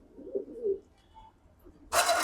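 Pigeons in a loft give a few soft, low coos up close, followed by a sudden burst of rustling or flapping near the end.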